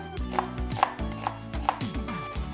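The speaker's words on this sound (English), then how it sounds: "This is how I like to cut an onion." A knife cuts an onion on a board in a steady rhythm of crisp chops, about four or five strokes, close and clear over faint background music.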